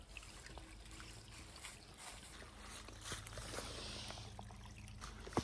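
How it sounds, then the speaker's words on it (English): A small laurel stream trickles faintly and steadily over rocks outdoors, a quiet continuous babble with a few soft knocks. "I love these laurel streams."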